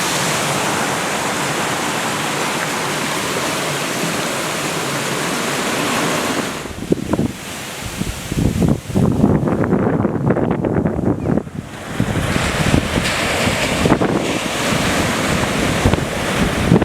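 Waves washing onto the edge of a beach near a waterfall, a steady surf hiss that swells into louder, gusty crashing surges with wind buffeting the microphone.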